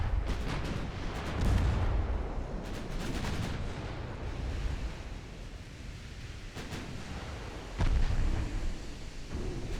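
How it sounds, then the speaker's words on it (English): Torpedo hit explosion on a light cruiser in the naval game Ultimate Admiral Dreadnoughts: deep booming blasts with rumbling low end, a heavy burst near two seconds and another near eight, over continuous sea and battle rumble. "Accidental torpedo hit on a light cruiser."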